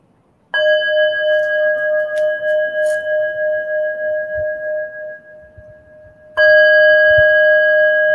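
A meditation bell rings at the close of a seated meditation session, two clear struck tones with long sustained ringing, the first decaying slowly over several seconds before a second strike rings out bright and strong.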